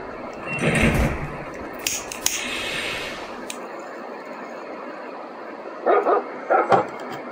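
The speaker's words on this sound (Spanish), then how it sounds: "¿Qué? ¿Un perro?" Dog barking in Final Station, the pixel-art train survival game: a few short, sharp bursts near the end of the clip, with other game sounds and ambient noise earlier.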